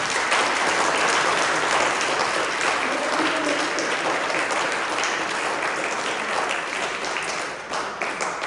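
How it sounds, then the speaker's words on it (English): Audience at a music studio recital applauds in a sustained, dense round of clapping that holds steady for several seconds and tapers slightly at the end. "Let's do one more round of applause so it's not awkward as ever."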